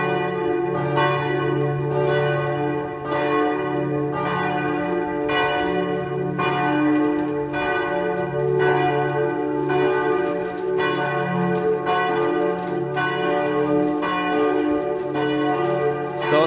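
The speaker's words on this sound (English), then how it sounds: "All these bells are for mass time." Church bells ring for mass in Paris, steadily and loudly in overlapping peals, a continuous rich clanging with a low hum beneath, sustained throughout.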